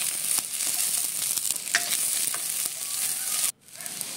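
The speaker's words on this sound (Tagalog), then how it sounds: "At sa isang pan, maglagay tayo ng mantika at igisa natin yung bawang" Garlic sautéing in cooking oil in a pan for ginisang pechay, a dense steady sizzle with scraping stirs, close and loud, cutting off sharply near the end.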